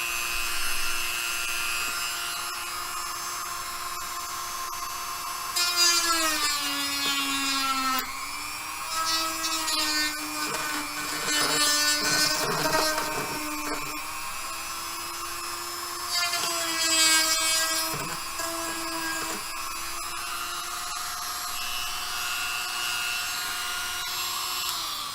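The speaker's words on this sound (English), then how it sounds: "Dremel's so useful!" Dremel rotary tool grinding plastic Game Boy controller parts, a steady high-pitched whine that dips and rises in pitch as it bites into the material, close and continuous for the whole stretch with brief harsher grinding bursts.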